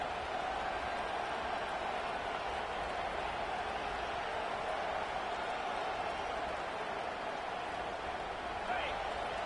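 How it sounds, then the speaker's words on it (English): Stadium crowd noise in the EA College Football 25 video game, Georgia facing Texas, forms a constant, moderately loud roar with speech mixed in. "Decibels rising as the crowd gets behind this defense on 3rd down."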